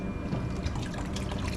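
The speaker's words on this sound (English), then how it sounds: "you're going to see the water pump up" A small elephant waterfall fountain with an electric pump starts running, giving a close, steady trickle and drip of water that fills the moment with no talk.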